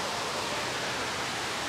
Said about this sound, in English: The waterfall is beautiful though.